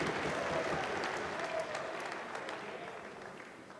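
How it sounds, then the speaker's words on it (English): A crowd at a Polaris grappling match between AJ Agazarm and Oliver Geddes roars and applauds steadily in a large venue, a dense, sustained wash of cheering and clapping that slowly fades a little. "You can hear the crowd responding to that action"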